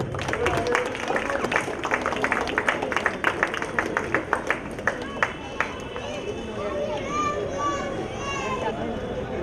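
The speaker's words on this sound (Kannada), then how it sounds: "ಚಪ್ಪಾಳೆ ಸದ್ದು ಬರ್ತಾ ಇರಬೇಕು." Audience applause at a Rajyotsava prize distribution: a burst of rapid clapping from a crowd that thins to scattered claps, with background chatter and children's voices throughout.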